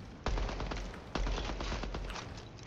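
Hip-fire gunfire from Apex Legends, with two loud sustained bursts of rapid automatic shots, each starting sharply and trailing off, with no talk over them.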